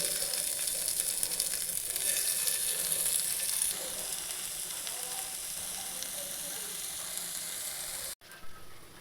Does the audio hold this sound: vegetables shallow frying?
yes